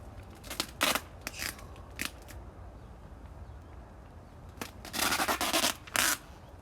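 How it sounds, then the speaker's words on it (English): Adhesive tape is pulled and snipped during a DIY zipper door installation, heard as a few sharp tearing rips and cuts that come in bursts, with a longer ripping stretch near the end, close and clear, with no talking. "Back to the taping."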